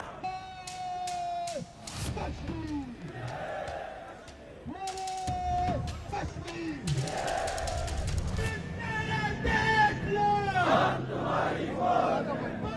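A street protest crowd in Pakistan-occupied Kashmir shouts and chants together, the loud, rough massed voices swelling and surging in bursts for the full stretch.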